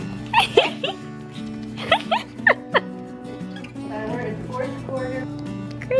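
Pomeranian puppy playing, giving several sharp high yips in quick bursts plus thin whimpers, fairly close, over a steady background hum with faint television-like sound.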